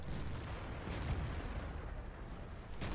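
A tank cannon fires in World of Tanks while playing a T28 Prot., a heavy booming blast followed by a rumbling roar of engine and battle noise, with another sharp report near the end.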